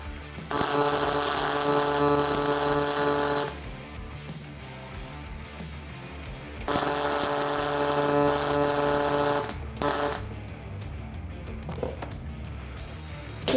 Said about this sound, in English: we're gonna weld these two plugs first because it's flat on the table